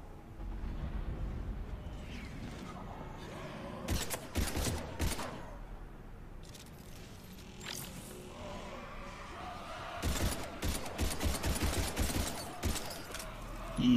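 Gunfire in a Mass Effect 3 demo battle against Husks, scattered loud shots in short clusters over a rumbling game background, with a heavier burst of rapid fire later on.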